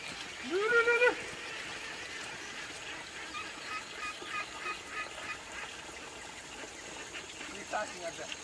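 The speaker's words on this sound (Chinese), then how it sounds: "听到鸭子在叫" Ducks give a short burst of loud, close quacks early on, then quieter calls follow beside a rain-swollen fish pond in the countryside. Faint voices sit in the background.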